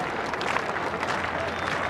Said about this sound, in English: The fans, the slow hand clap.